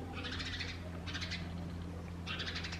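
A bird calls outdoors in a Canadian winter, three soft, hooting bursts at steady intervals, fairly faint over a low continuous background hum.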